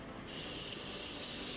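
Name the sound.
makeup setting spray being sprayed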